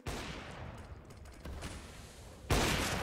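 Pistol fire in a professional Counter-Strike match on the Overpass map, a handful of sharp, close gunshots and bursts over game ambience, with a louder shot near the end and no voices.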